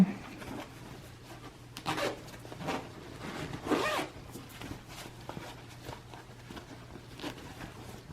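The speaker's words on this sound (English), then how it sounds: "now we'll unzip this a little bit" A zipper on a fabric pillow cover is pulled open in several short rasping bursts, close and fairly quiet, separated by soft handling rustles.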